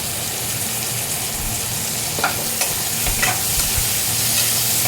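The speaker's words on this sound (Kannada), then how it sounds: "ಫ್ರೈ ಆಗಲಿ ಸ್ವಲ್ಪ ಮೂರು ಹಸಿಮೆಣಸಿನ್ಕಾಯಿ ಗೋಡಂಬಿ ಬಾದಾಮಿ ಟೊಮೊಟೊ" Green chilies, cashews, almonds and tomato fry in a pan with a loud, continuous sizzle, with a few soft stirring knocks over it.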